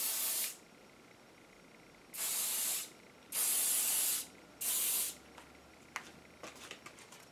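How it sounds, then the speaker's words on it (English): Four bursts of aerosol hairspray, each a loud hiss lasting about a second, followed by faint tapping and handling sounds. "Give it a final hairspray."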